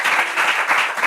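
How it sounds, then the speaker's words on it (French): A studio audience at a French Bible quiz show applauds a young contestant, a brief burst of dense, even clapping, loud and close with no voices over it. "On l'applaudit"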